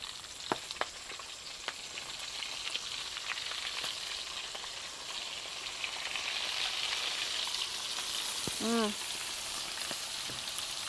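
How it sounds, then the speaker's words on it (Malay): A second batch of shrimp frying in hot oil, an even, busy crackle and sizzle throughout, punctuated by a few light clicks and a short squeaky scrape of a utensil toward the end. "Okay, goreng kedua kali pula."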